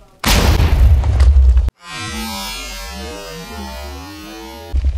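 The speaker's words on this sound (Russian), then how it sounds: "Теперь нам просто остается нажать на кнопку и активируется эта супер пушка." A super cannon in Minecraft fires a loud, roaring burst of blasting noise that cuts off abruptly, followed by a sustained electronic hum with shifting tones.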